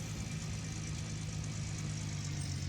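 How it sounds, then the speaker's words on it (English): A truck engine idling in Gold Rush The Game, a steady low droning hum with a constant mid rumble, close and even throughout, no voices over it. "Probably shut off the engine. Conserve a little bit of fuel since I'm low."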